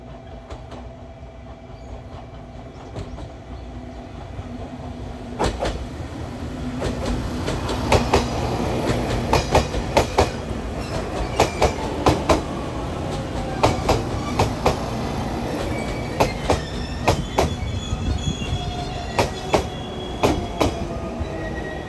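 JR Kagoshima Line local train passing close by, a building rumble that breaks into rhythmic clickety-clack of wheels over rail joints with sharp metallic squeals, loud and sustained to the end.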